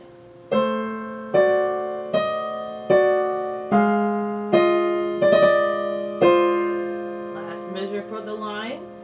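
A piano plays one measure of Khachaturian's Andantino as a teaching demonstration, with eight evenly paced, ringing chords, each decaying before the next. A voice enters briefly at the very end.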